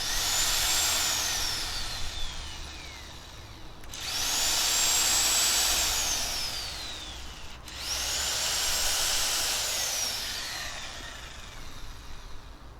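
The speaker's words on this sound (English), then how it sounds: "Now an impact wrench." An AC impact wrench running directly on 120 volts DC from solar panels, spinning up in three long whirring bursts, each with a falling whine, loud and close with brief pauses between.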